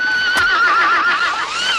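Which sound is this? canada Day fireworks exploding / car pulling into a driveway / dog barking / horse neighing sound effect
horse neighing sound effect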